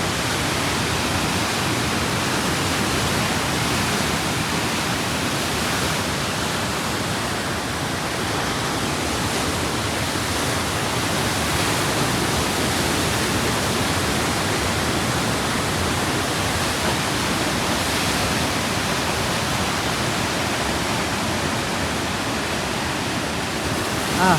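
Continuous roar of Lake Superior waves crashing against the shore after a storm, loud and steady with no pauses, like heavy surf.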